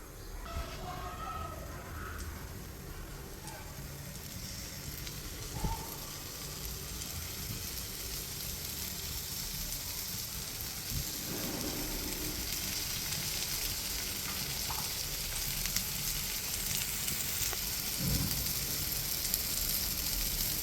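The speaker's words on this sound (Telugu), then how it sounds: "ఫస్ట్ ఆయిల్ వేసుకొని కొంచెం పెనం వేడైన తర్వాత ఇలా పెట్టేసుకుందాం, షాలో ఫ్రై చేసుకుందాం" A snack shallow-frying in a little oil on a hot flat pan gives a steady, soft sizzle that runs throughout, with a few faint clicks and taps rising now and then above the even hiss.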